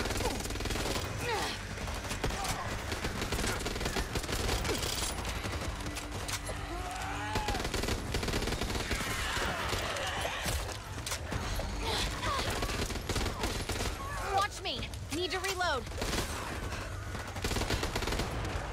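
Sustained gunfire in the zombie shooter Back 4 Blood, with dense bursts and rapid volleys running continuously and loudly through a busy game mix, with other game sounds layered in.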